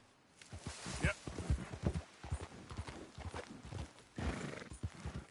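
Horse hooves clip-clopping at a run in Red Dead Redemption 2, with snorts and a whinny, fairly quiet, rhythmic and continuous across the clip.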